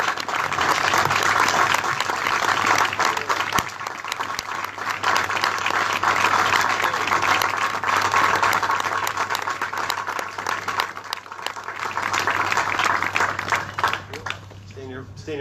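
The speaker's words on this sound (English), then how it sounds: "Let's give them a big round of applause." A crowd outdoors at a street dedication ceremony for a fallen staff sergeant and LAPD officer gives extended applause, steady clapping lasting about fifteen seconds with a low steady hum beneath.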